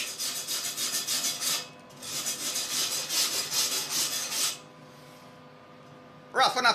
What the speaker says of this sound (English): Clean it up a little bit with a wire brush.